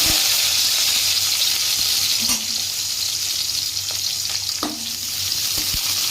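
Green chili and onion frying in a pan over a village cooking fire, a steady loud sizzle with a few brief clinks of stirring.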